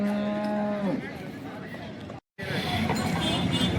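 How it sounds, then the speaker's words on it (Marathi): A cow at the Sangola cattle market lets out one long, loud, close moo, followed by the general bustle of the market as people talk nearby. "बघा आता आपण ही गाय कव्हर करतोय"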